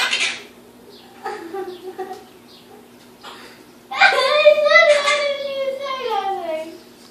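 A pet bird talks and squawks up close, with short chirpy calls early on and then a longer, louder squawking, voice-like burst in the second half, all over a quiet room hum.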